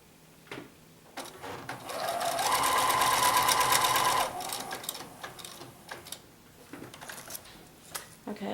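A sewing machine stitches fabric for a bunny table topper, running in one steady, fairly loud whirring burst of about two seconds, with lighter handling clicks and faint movement before and after.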